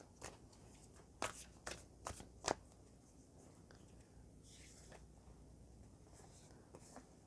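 Tarot cards are shuffled in a few quick, crisp riffles near the start, followed by soft handling rustles while a quiet voice is faintly present.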